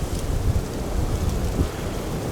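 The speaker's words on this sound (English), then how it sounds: "These are like insane winds right now." Strong, gusty wind blows across an outdoor microphone on a very cold day, giving a continuous rumbling buffet with irregular low gusts and no voices.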